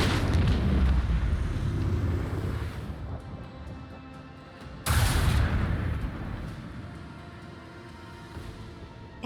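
Torpedo explosions in Warhammer 40K Rogue Trader give a heavy rumbling roar. A sudden loud blast hits midway and then fades into a long, low reverberation.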